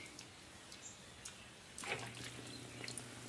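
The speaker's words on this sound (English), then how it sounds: "The pump is running." A small pump circulates water through tubing in a homemade air conditioner, producing a faint trickling and gurgling of flowing water under a low steady hum that starts partway through.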